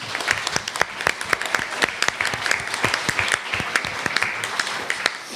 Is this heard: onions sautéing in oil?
no